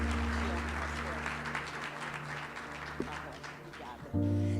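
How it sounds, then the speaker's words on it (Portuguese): A church congregation at a family celebration service applauds in a dense, fairly distant wash of clapping over a low sustained organ or keyboard hum, with a brief knock partway through and the music swelling at the end. "Mais uma salva de palmas"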